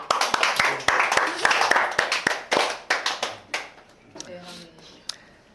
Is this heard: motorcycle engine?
no